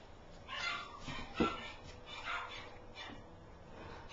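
An eight-week-old puppy whimpers and gives soft, faint yips, a few short cries over a quiet, muffled background.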